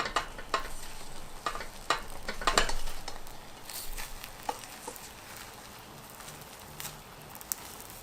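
Beaten eggs being stirred in a hot pan for omurice, a soft scraping and stirring with light sizzle, steady and close, with a few sharper clicks of the utensil against the pan.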